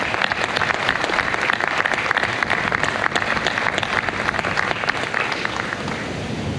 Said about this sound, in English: please join me in giving him and the National Infantry Museum a round of applause